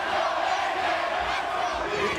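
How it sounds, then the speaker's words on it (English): Wrestling arena crowd at a TNA X Division match roaring and chanting, a loud continuous wall of massed voices filling the space. "You can see the crowd right now screaming, "Let's go, AJ!""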